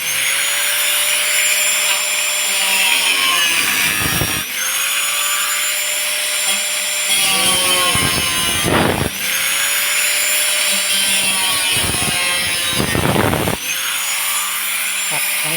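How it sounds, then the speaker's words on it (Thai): A power drill whines in repeated bursts as it drills a drainage hole in cement, its pitch rising and falling as it bites in, with brief grinding pauses between runs. "อันนี้ก็จะเจาะนะครับพี่เพื่อให้น้ำไหลออกนะ"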